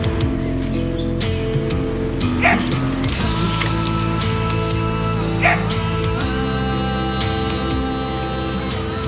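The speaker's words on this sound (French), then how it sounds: "c'est un berger australien croisé" An Australian shepherd cross dog in a rescue setting gives scattered barks, yips and whimpers over several seconds, close by, among steady background hum and occasional clattering.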